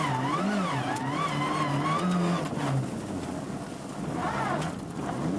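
A Mitsubishi Lancer Evolution II rally car on a snowy 1995 World Rally Championship stage, engine revving loudly up and down with wavering pitch as the car slides, close and continuous.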